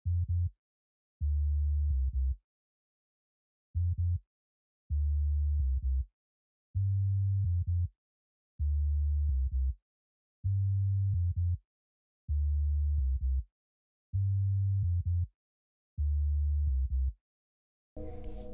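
Deep sine bass from an FL Studio 3X Oscillator synth pulses in a steady pattern of short and longer tones with clean gaps between, alone and smooth, before a brief burst at the end.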